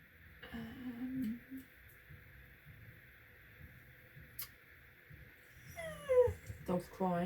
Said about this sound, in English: Dog's crying because she can't wait for it.